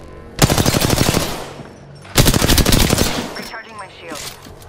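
Two long bursts of rapid automatic gunfire in the Apex Legends shooter ring out loud and close, separated by a brief pause, followed by fainter trailing sounds.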